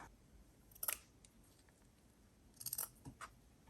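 Small scissors snip through ribbon ends on a handmade paper booklet: two quick clusters of crisp, close snipping clicks in an otherwise quiet room.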